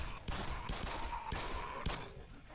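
Gunfire in the Half-Life remake game Black Mesa: several sharp bursts of shots, loud and close, spread across a couple of seconds over a steady background hum, with no talking.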